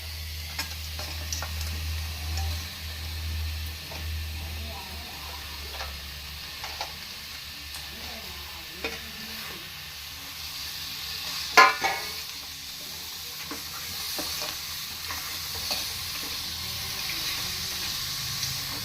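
A spoon stirs Andhra-style crab curry with curry leaves in a pan. Soft, steady scraping and faint frying sizzle continue throughout, broken by a couple of sharper clinks of utensil against the pan.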